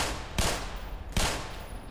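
Two sharp, loud gunshots in the Black Mesa video game, spaced about a second apart, each a broadband crack with a short decaying tail over steady background noise.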